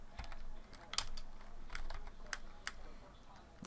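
Quiet, irregular clicking of computer keys being pressed, with a few sharper taps standing out over a soft background hiss.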